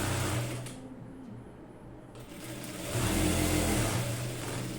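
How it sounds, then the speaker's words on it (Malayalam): A sewing machine stitching saree fabric hums in a steady, close whir that speeds up for a second stretch, with no talking. "ഒന്ന് സ്റ്റിച്ച് ചെയ്ത് ജോയിൻ ചെയ്ത് കൊടുക്കാം"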